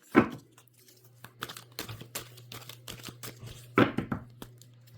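Close papery riffling and flicking of cards in irregular bursts, with a steady low hum underneath.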